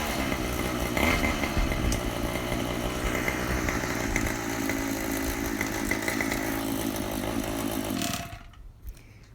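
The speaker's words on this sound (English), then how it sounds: "It's a 2-cycle engine, so it's not super quiet. nor is it super smooth on the idle, but I'll blip the throttle a little bit" A Golden Eagle 2-cycle bike engine runs with a rough, buzzy, chainsaw-like rasp, loud and close, revving briefly before dropping back toward a lower idle near the end.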